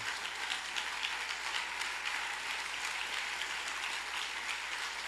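A church congregation applauds to acclaim Jesus, a dense, steady wash of many hands clapping at once, loud and continuous throughout with no voices standing out.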